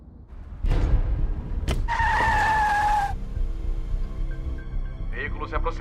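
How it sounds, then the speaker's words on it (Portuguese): A car approaches in a police roadblock scene from a chase film, with a loud skid and screeching tires over rumbling engine noise, then brief voices near the end. "Veículo se aproximando."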